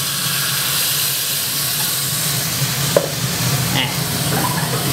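Blanched glass vermicelli being tossed with sauce in a hot pan for baked shrimp with vermicelli, a steady close sizzle and hiss of frying with faint stirring scrapes and a couple of soft clinks.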